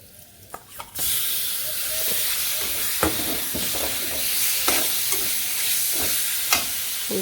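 Chopped onion and chicken skin dropped into hot oil with cumin, bursting into a loud, steady sizzle with scattered crackles and stirring scrapes that carries on throughout.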